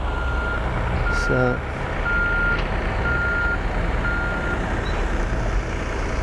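A tractor moving irrigation pipe at a park renovation site sounds steady, evenly spaced reversing beeps over a constant diesel engine drone, heard from a moderate distance with a brief horn-like tone near the start.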